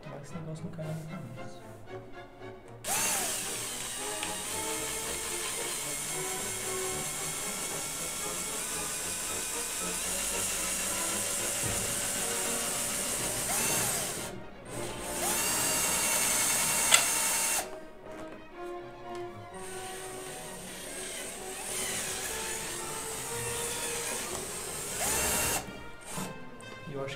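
A power drill bores out a rivet on the handle of a case, its whirring running in long sustained bursts with short pauses between them, and a few brief louder peaks.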